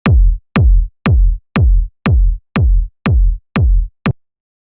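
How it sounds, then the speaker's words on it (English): A steady techno kick drum thumps nine times in an even four-on-the-floor pulse, each hit deep, punchy and short, with silence between. "So we have just simple 4 to the floor kick."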